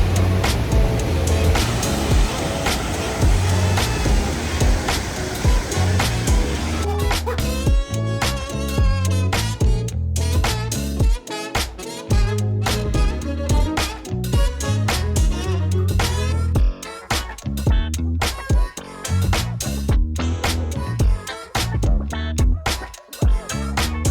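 Roaring water of Iguazu Falls, a steady, loud broadband rush that continues throughout with no break, with a few faint voices partly audible beneath it.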